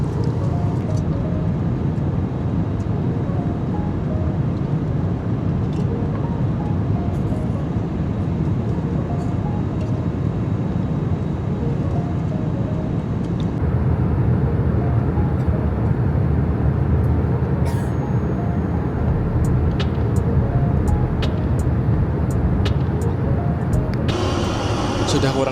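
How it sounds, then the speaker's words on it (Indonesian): Steady broadband roar of a Vietnam Airlines jet cabin at cruising altitude, a constant loud engine and airflow rumble that holds throughout, with faint background voices and small clicks beneath. "pesawat barusan melakukan ketinggian jelajah"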